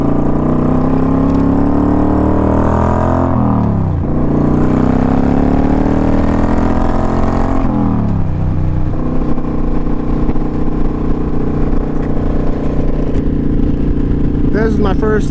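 A 2014 Kawasaki Vulcan 900 Custom motorcycle engine runs loud and close, rising through two long throttle sweeps with a drop between them, then settles into a throbbing idle.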